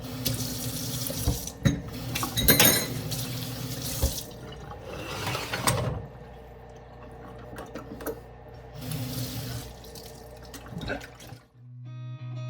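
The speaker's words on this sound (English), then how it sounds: "I just finished putting away those dishes. I'm gonna go ahead and wash these." Dishes being washed under a running kitchen tap, with water gushing in bursts, clinking and rattling of crockery, and brief pauses before the flow stops near the end, close and fairly loud.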